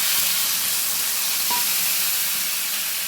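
Ginger and tomato paste hitting hot oil in a pan, cooked for a potato curry, giving a loud steady broadband sizzle that holds for several seconds with a faint brief clink partway through.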